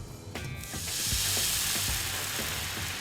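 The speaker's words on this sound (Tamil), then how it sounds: "இந்த பாலையும் நம்ம வந்து ஜாகரியும் சூடாக்க போகிறோம்" Milk and jaggery heat in a pan with a loud, steady sizzle that swells after a brief clatter at the start, alongside faint stirring scrapes.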